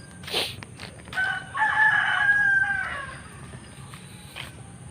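A rooster crows in the middle distance, preceded by a brief cluck and followed by faint bird calls in a quiet outdoor setting.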